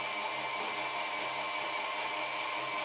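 Electric hand mixer whipping egg whites for sponge finger biscuits, a steady loud whirring drone throughout with faint periodic clicks of beaters against the bowl, no voices.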